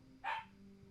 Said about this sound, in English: Why is the dog screaming?